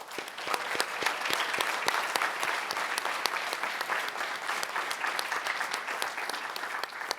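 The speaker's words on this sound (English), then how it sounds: "If we can give them another round of applause." Sustained applause from a school board meeting audience honoring student athletes, dense steady clapping with sharp individual claps standing out, continuous and fairly close throughout.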